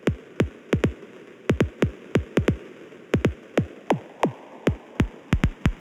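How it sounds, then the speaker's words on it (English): Synthesized kick drum built in Bitwig, set with no decay, extra punch and click: a steady run of short, punchy electronic thumps, each a sharp click sliding down into a deep sub thud, repeating in an uneven, loop-like rhythm over a faint hum. "this is V0 kick"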